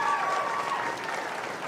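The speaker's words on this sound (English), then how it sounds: "Give him a big round of applause." A crowd claps steadily at a 4-H swine show ring at the Hamilton County fair, a dense, even applause that carries through the whole moment with a faint tonal ring above it.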